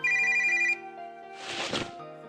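A phone rings in a video game: a short electronic ring tone of about three-quarters of a second, followed by a brief burst of rustling noise over a soft background tone, with no voices.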